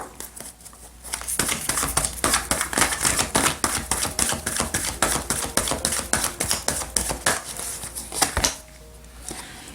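Tarot cards shuffled and drawn for a reading, a steady run of dense crisp riffling clicks and snaps lasting most of the stretch, then a quieter pause near the end.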